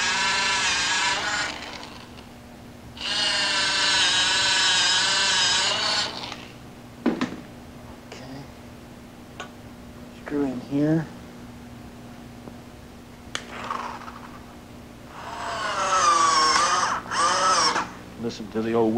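A power drill bores pilot holes into old wood during layout construction, with several sustained whirring bursts of a few seconds each and brief pauses between them, close by, along with scattered handling noises and short spoken remarks.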